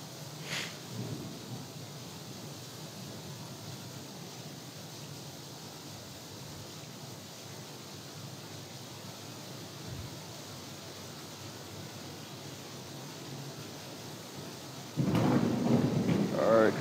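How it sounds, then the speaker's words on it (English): Stormy weather in Deadliest Catch: The Game sets a steady broadband roar of wind and rain, with a soft low rumble, and a louder burst near the end, while someone speaks briefly over it. "What a storm too"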